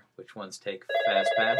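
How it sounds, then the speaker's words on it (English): A telephone starts ringing partway through, a steady electronic tone that rings on beneath a person's continuing speech at close range. "That's my phone."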